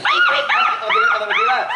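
A voice imitates a puppy yelping with its neck caught in a door, giving a run of high, arching whiny cries, loud and close, repeated about four times in quick succession.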